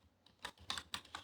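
Four or five soft keyboard keystrokes tap out in a brief, quiet run while Node.js code is typed, close up with no voices.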